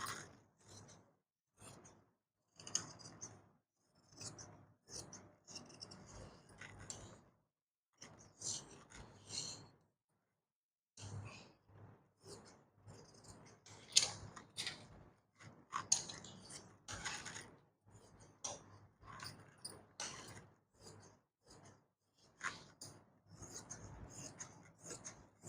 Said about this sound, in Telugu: ఇప్పుడైతే కట్ చేసేసుకుంటున్నానండి.